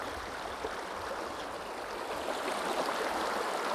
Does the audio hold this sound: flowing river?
yes